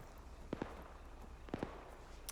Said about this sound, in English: Oh, I hear gunshots.